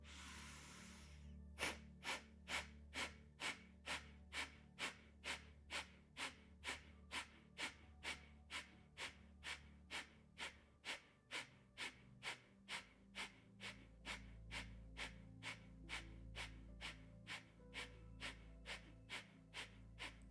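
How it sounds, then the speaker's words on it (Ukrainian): Rapid kapalabhati yoga breaths, a long steady series of forceful, sharp nasal exhalations at a fast, even rhythm, close and clear over a soft low background hum. "Робимо глибокий повний вдих, кінчик язика вгору і з видихом капалабхаті в комфортному ритмі без рахунку"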